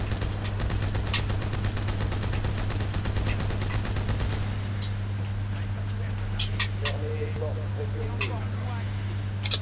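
Automatic weapon fire in Halo 2, heard as a steady loud stream of rapid shots for about four seconds, followed by scattered game effects over a constant low hum, with a voice speaking.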